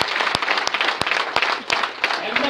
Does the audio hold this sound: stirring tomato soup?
no